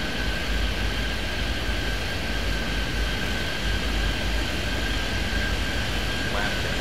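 A jet airliner's engines roar steadily through a takeoff roll in a flight simulator game, a loud, constant broadband rush with a faint steady whine, as speech is heard quietly in the background.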